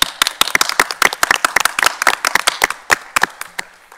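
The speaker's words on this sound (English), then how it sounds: "We'll be clapping" A small audience at a school board meeting claps for students, a few dozen distinct, crisp hand claps in an uneven rhythm, close and loud, thinning out toward the end.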